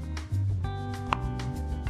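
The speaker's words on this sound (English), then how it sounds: "I'm chopping them in 1-inch pieces" A knife chops trimmed vegetable stalks into 1-inch pieces on a cutting board in a home kitchen. The strikes are quiet and evenly spaced.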